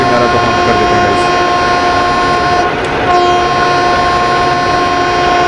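A long, loud, continuous horn from a WAG 7 locomotive hauling ICF coaches approaching a railway crossing on the Kerala valley route in Train Simulator, steady tones sounding over constant rumbling train noise, with a brief dip midway.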